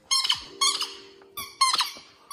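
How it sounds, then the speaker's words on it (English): A puppy's squeaky toy, in a Standard Poodle household, squeaks in four quick bursts of high, harmonic squeals, fairly close and loud, with no talking over them. "They both have their own squeaky toys."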